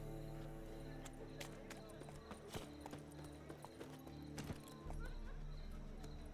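Roach, Geralt's horse in The Witcher 3, clip-clops along in a steady hoof rhythm, close and fairly faint, over a low ambient hum with a brief voice in the background.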